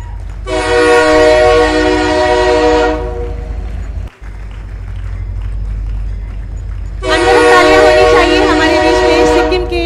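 A recorded train horn sounds twice, the Sikkim Sanskriti Mail arriving at Lucknow Junction, played as an effect at a ceremony: two long, loud blasts over a continuous rolling rumble of rail noise.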